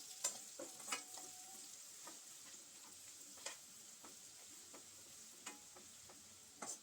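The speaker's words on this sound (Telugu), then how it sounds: "ఇప్పుడు అదే కడాయిల్లోకి కొద్దిగా మనం ఆయిల్ వేసేసుకొని సన్నగా తరిగిన ఉల్లిపాయ ముక్కల్ని వేసేసుకోవాలి" Finely chopped onions fry in oil in a kadai with a soft, continuous sizzle, broken by light scrapes and taps as they are stirred, heard up close.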